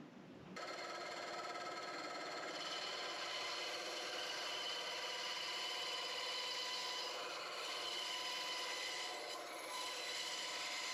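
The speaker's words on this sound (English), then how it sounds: "then go ahead and sand it down so it perfectly fits" Hand sanding of a Lebanon cedar wood piece to fit a ring core, a steady close rasping rub that runs the whole time with little change in loudness and no talking.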